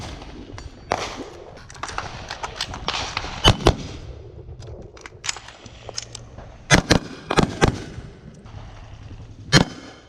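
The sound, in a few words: gunshots fired on range command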